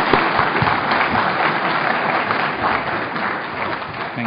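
An audience at the DSCI Excellence Awards 2013 claps for the host, a loud, steady wash of applause filling the whole moment with no speech over it.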